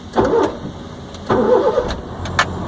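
Car engine starting during a driving lesson in India, the starter cranking in short bursts before the motor catches, heard close with no talking over it.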